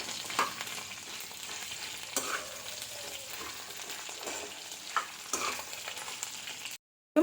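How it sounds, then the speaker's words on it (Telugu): Red chillies, coriander seeds and curry leaves stir-fry in a pan with a steady, close sizzle, broken by occasional scrapes of stirring, before the sound cuts off abruptly near the end. "ఇది తిప్పుతూ వేయించుకోవాలన్నమాట అప్పుడు సమానంగా మొత్తం అన్నీ వేగుతాయి అనమాట"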